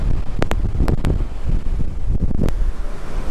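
Strong wind buffets across an open ferry deck at sea, a loud rumbling gusty roar with irregular bursts and a few sharp knocks.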